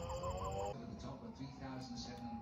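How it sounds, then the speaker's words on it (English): Loose chickens out of their coop in the evening, clucking softly at a distance, a few short calls over a quiet background with faint rustling. "The chickens are out of the coop."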